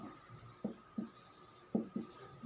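A pen scratches out notes during a chemistry lesson in short, close strokes, several separate bursts of writing against a quiet room.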